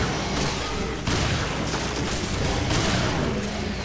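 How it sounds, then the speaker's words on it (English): Enemy gunfire in Resident Evil: Revelations, a dense, continuous barrage of overlapping shots and booms that stays loud throughout with no gaps. "They're firing all kinds of crap at us."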